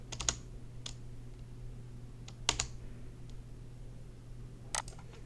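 A computer keyboard in a Microsoft Teams chat, struck in a few sparse, separate key presses such as arrow keys and enter, close and fairly quiet over a steady low electrical hum.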